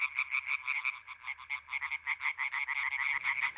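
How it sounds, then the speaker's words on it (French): Green frogs in a marsh along the Essonne river call in a mating chorus, a rapid, pulsing croak repeating steadily and close by, with no voices present. "On entend les grenouilles vertes faire leur chant nuptial."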